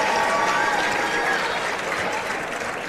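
Broad, steady roar of a large crowd packed into a high school gym for a Calaveras vs Sonora boys basketball semifinal playoff game, a dense continuous wash of voices and cheering with no single speaker standing out.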